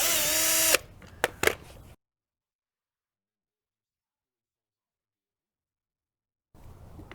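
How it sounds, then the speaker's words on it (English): A power drill backs Phillips screws out of the outside cover of a junkyard WJ seat with a short, loud whine, followed by a few sharp clicks and then silence. "Get this outside cover off, which is just some Phillips screws."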